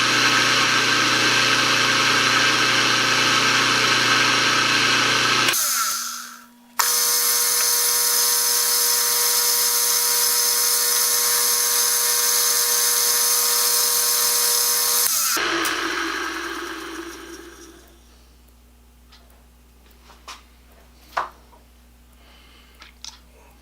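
A Doerr Electric Model 1499 electric motor, running backwards, hums steadily and loudly for several seconds, briefly cuts out, starts again, then spins down and fades, leaving a few faint clicks and knocks.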